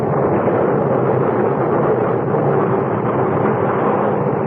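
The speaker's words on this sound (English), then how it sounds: "a great explosion blew her apart from stem to stern" A ship blowing apart in a CBS Radio Mystery Theater drama: a sustained, loud, muffled roar of rumbling blast noise, dense and unbroken from start to finish, with no voices.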